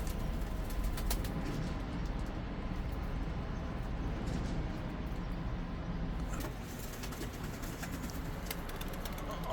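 Painted tumbler pigeons fly a long session above a Turkish coop, their soft cooing and wing flutters steady and moderately near against a busy outdoor background, with no voices.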